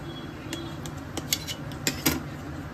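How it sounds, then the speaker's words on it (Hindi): Knife cutting through a block of paneer on a kitchen surface, a few soft, separate clicks and taps from the blade, fairly quiet against faint room hiss. "पनीर कट कर लूंगी, बड़े बड़े पीस करने हैं"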